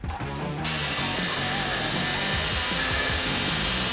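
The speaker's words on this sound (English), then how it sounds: "Really easy to grind, but no sparks." A grinder runs continuously against a piece of magnesium metal, a loud, steady whirring grind that starts after a short quiet moment and holds with shifting pitch as the metal is pressed in.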